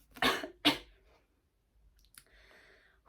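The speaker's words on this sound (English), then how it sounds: "So shocked that I coughed." Two sharp coughs close together near the start, then quiet with a few faint clicks and rustles.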